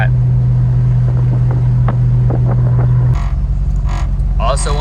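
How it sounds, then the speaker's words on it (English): A Ford Foxbody Mustang engine runs loud and aggressive, a steady deep droning idle with strong vibration hum that shifts pitch partway through, while a person talks over it close by. "due to the vibrations of my car being so loud and aggressive, you hear that?"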